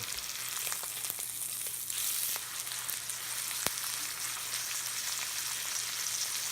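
A New York strip steak sizzles steadily in a hot pan after being flipped, a continuous close frying hiss with faint crackles and one sharp pop, no talking.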